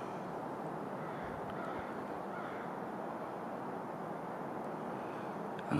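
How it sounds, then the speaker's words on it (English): Ravens or crows cawing outdoors, faint and distant, a few rough calls set against a soft steady wash of wind and background noise. "Here's the ravens. Or crows, or whatever they are."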